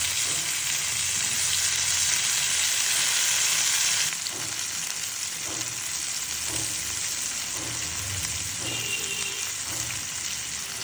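Pieces of crab frying in oil over low heat give a steady, loud sizzle. It drops slightly after a few seconds and continues with occasional stirring clinks, and no voices are heard.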